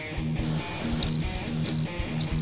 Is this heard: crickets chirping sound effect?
yes